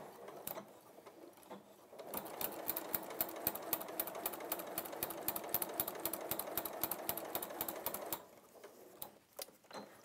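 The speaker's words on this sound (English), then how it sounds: "Right, so I'm going to backstitch." A sewing machine stitches fabric binding in a quick, even mechanical rattle for about six seconds and then stops, with softer handling noises before and after.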